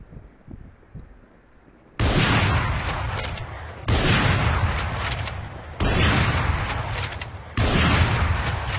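Four heavy Operator sniper rifle shots hit a wall in Valorant, booming in an even, slow rhythm about two seconds apart, each loud blast followed by a lingering rumble.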